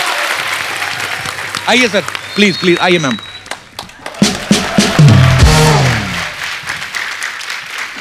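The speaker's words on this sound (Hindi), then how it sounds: "सो जोरदार तालियां।" A studio audience breaks into loud applause and cheering that swells and carries on, with people speaking and calling out over the clapping.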